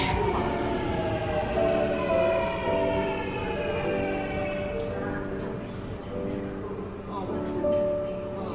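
A metro train rolls into a station in South Korea with a rising and falling electric whine and rumble, steady and fairly loud, over faint background voices.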